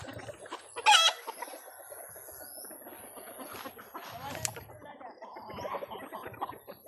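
Chickens cluck and murmur nearby, with one loud sharp squawk near the start followed by softer, scattered clucking throughout.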